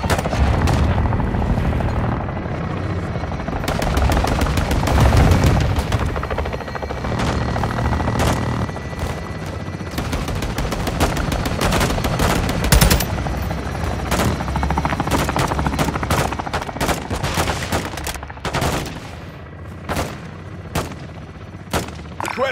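Gunfire rattles in Call of Duty Modern Warfare 2, loud and nearly continuous: dense bursts of automatic fire and sharp shots overlap with booming impacts across a long combat stretch.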